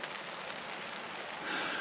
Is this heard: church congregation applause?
no